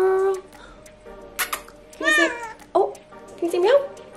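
A pet cat meows several times up close, short rising and falling cries spread across a few seconds, interleaved with a person's voice speaking to it indoors.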